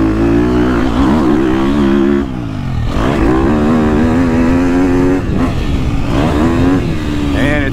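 A 2022.5 KTM 250SXF Factory Edition dirt bike engine revs hard up through its range, loud and close, in several long pulls. The throttle backs off briefly between them and a voice is heard under the engine.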